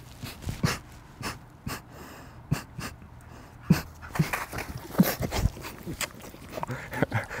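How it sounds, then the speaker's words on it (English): A Staffordshire Bull Terrier pants and licks close up, with quick, uneven breaths, snorts and wet sniffing sounds at moderate volume. "he's gonna sprint over to you and he's gonna lick your face"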